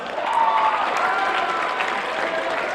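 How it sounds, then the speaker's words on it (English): Audience at a motivational talk breaks into a round of applause, dense steady clapping from a crowd with a few faint cheers mixed in. "Give them a round of applause."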